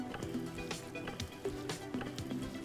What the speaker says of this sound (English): So then we just take our bucket and we're gonna stir it up